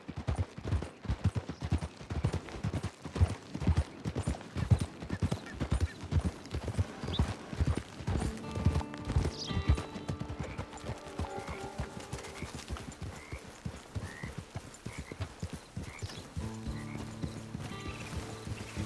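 A galloping horse's hooves pound in a fast, steady rhythm in Red Dead Redemption 2, close and prominent at first. The riding then gives way to in-game music with a few scattered higher sounds.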